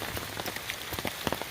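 Rain falls on a forest trail at Company Mill Trail in Umstead State Park, Raleigh, NC: a close, steady spatter of drops striking leaves and ground with scattered sharper ticks, no voices.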